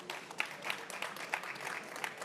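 Faint, distant applause at a COP29 session on resilience in Dominica for an agriculture minister, a thin spattering of claps under room noise for about two seconds.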